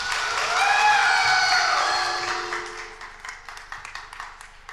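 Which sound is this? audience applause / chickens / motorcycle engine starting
audience applause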